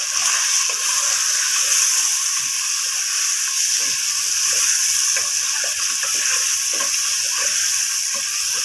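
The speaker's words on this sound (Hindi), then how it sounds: "आठ मिनट में से ऐसे भून लूंगी।" Mutton karahi frying in a pan gives off a steady, loud, hissing sizzle that holds evenly from start to finish, with no talking over it.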